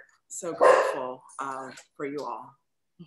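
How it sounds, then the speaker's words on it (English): A dog barks and whines a few times in a home during an online conference closing, mixed with and partly under a woman's speech. "Sorry, that's my dog."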